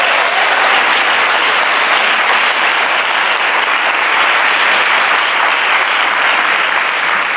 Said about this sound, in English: let's have a round of applause for the Coburn School